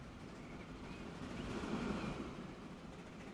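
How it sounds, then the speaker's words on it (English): Train rolling on rails in Transport Fever 2, a steady broadband rumble that swells slightly mid-clip, fairly quiet and continuous with no talking. "the train ahead of us had trouble climbing the hill, so we slowed down"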